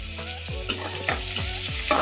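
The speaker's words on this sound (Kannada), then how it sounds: "ಈಗ ಕರಿಬೇವು ಹಾಕೋಣ." Curry leaves hit hot oil while making aloo 65, a continuous close crackling sizzle punctuated by several rhythmic scraping stirs of a spoon in the pan, with no voices.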